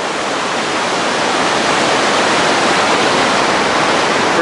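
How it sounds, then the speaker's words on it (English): Milk River rushing beneath a large swing bridge on the Everest Base Camp trek in Nepal, a loud, steady broadband roar of whitewater filling the whole span without pause or voices. "There's the Milk River below us."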